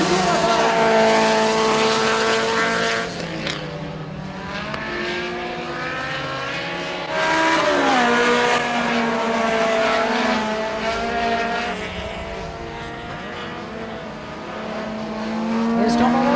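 Super 4 race cars roaring around the track at St-Guillaume on the final lap, loud engines rising and falling in pitch as cars pass and accelerate, with a crowd-level din beneath.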